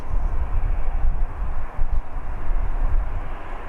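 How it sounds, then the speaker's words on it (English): A Lufthansa airliner departs Birmingham Airport, its engines a loud, steady low roar that fills the whole stretch with a brief dip partway through, and no voices are heard. "We have our second Star Alliance Lufthansa departing."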